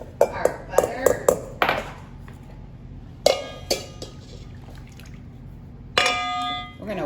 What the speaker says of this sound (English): we're gonna whisk that up a little bit